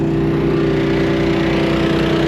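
A generator runs steadily with a constant loud droning hum and an even mechanical pulse, close by and unbroken, with no talk.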